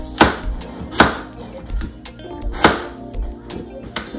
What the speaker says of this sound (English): cut these into like some cubes, however you want to cut them